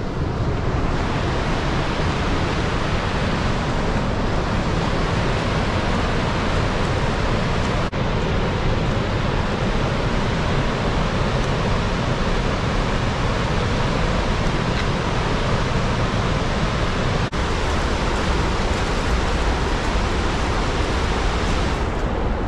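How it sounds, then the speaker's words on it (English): Gullfoss waterfall in Iceland roaring as a dense, unbroken wall of rushing water, loud and close, steady for the whole stretch with no voices. "Actually feel the water of a waterfall from this"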